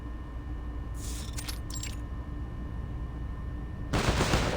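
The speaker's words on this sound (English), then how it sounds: "Gunfire still rattles." Gunfire rattling in the video game Reverse: 1999: a short cluster of sharp bursts rises over a steady low hum, then a heavier volley breaks out near the end.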